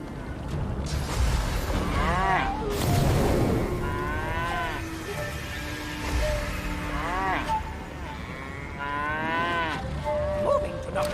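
Cow mooing during a fight in Divinity Original Sin 2: several long, drawn-out moos rise and fall one after another, loud and close, with a game effect sound between them.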